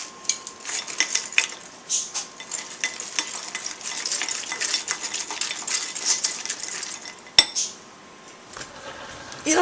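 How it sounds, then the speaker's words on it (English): Lemon meringue pie filling being mixed in a bowl, giving a busy stream of close scraping and clinking as a utensil works around the bowl, with one sharp knock near the end before the stirring resumes. "just mix it up."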